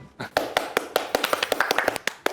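Hand claps ring out as a quick burst of sharp, fairly close strikes, starting sparse and then speeding into a steady run of claps.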